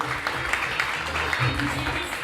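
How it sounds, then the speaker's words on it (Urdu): Audience applause at an award show in Pakistan, a steady wash of clapping from a crowd that runs for the full stretch with a low murmur and some voice underneath. "بہت سی تالیاں ہونی چاہیے ماجد کے لیے."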